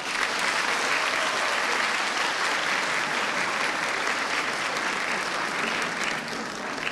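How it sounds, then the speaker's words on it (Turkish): Sustained applause from a graduation ceremony audience, a dense, steady wash of many clapping hands filling the hall at even loudness for several seconds before easing slightly at the end. "Biz kendilerine teşekkür ediyoruz ve alkışlıyoruz."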